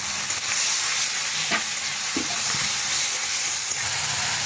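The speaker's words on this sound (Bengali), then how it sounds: "আর দেবো 1/2 চামচ জিরে গুঁড়ো দিয়ে এটা এখন ভালো করে একটু নাড়াচাড়া হবে" A spice paste with half a spoon of cumin powder stirs and fries in a pan for an egg and onion dish, giving a steady close sizzle with faint scraping stir sounds and no talk.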